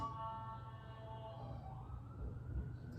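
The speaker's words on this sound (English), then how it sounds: "I just heard an ambulance" An ambulance siren wails outside, distant and muffled, its rising and falling tone steady under a low indoor rumble.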